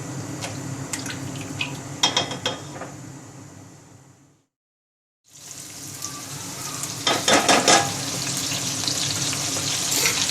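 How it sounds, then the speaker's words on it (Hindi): A chopped medium onion fries in oil inside a pressure cooker for nihari, sizzling steadily with occasional stirring clinks; the sizzle cuts out for about a second midway, then returns louder with clattering stirring. "प्याज को हमने 1 मिनट के लिए भून लिया है"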